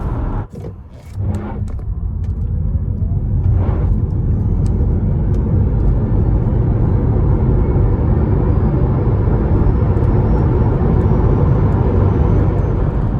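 A Hyundai Kona EV with a 64kWh battery accelerates hard, after a few brief knocks at the start, into a loud sustained rumble of road and wind noise with a faint rising whine.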